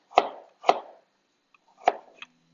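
Ginger being chopped into big chunks on a board, three crisp knife strikes close by, two in quick succession and a third after a short pause, with no talk.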